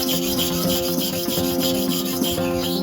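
A Wahl clipper blade being sharpened by hand at a 45-degree angle, with a steady rasping rub sliding to and fro in repeated strokes, close and continuous, with no talk.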